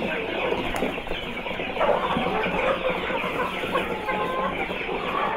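Improved kienyeji chickens cluck continuously at a poultry farm, a dense flock chorus of overlapping clucks and calls filling the yard at moderate loudness, with no clear talk.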